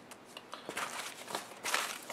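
Paper slips are stirred and mixed by hand inside a hat, giving soft, faint, irregular rustling bursts close by with no talking.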